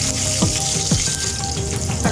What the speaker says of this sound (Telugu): పచ్చిమిర్చి కూడా కొద్దిగా వేగిందండి